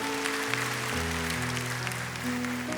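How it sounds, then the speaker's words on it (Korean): A church congregation claps during a Sunday worship service after a prayer, a soft spread of hands under sustained organ or keyboard chords that hold and shift beneath it. "박수하겠습니다"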